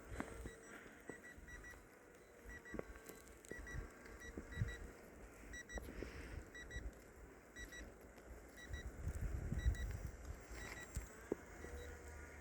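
Repeated low-battery warning beeping from a Sky Reaper A310 drone, evenly paced short tones over a low outdoor rumble and wind.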